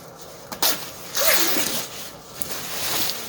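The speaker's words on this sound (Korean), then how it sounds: "여기다 표시를 하고 지퍼를 열어요." The zipper on a padded jacket is pulled open during a sewing-machine zipper repair, a close, bright ripping zip with a couple of quick tugs and a longer pull, alone without talk.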